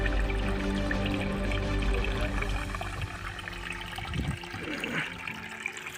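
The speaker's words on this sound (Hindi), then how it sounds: "इस प्रकार के शांतिमय वातावरण में आप पानी के बहाव का आनंद लीजिए" Water flows and splashes steadily at Sita Mata in Ranthambore, a dense, loud rushing wash that continues without pause throughout.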